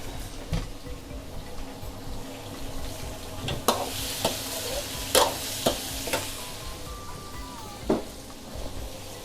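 Shrimp being stir-fried in a pan, a low sizzle punctuated by sharp clacks and scrapes of a spatula against the metal at irregular intervals, close and unaccompanied by talk.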